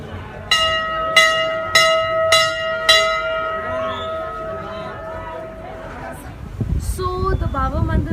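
Several bright temple bell strikes ring out at a steady pace at Baba Mandir in Sikkim, their tones lingering and fading, with crowd chatter and wind noise rising afterward.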